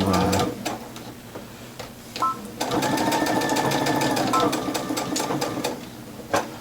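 A sewing machine stitches a jersey knit fabric mask in a rapid steady chatter, briefly slowing and restarting, with a whirring tone riding over the stitching.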